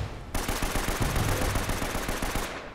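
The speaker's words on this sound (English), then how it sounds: "Oh, where are these guys shooting me from?" Rapid automatic gunfire from enemies in the Uncharted: Drake's Fortune fortress level: a steady, fast string of shots that starts suddenly and runs for over two seconds at close, loud range before cutting off.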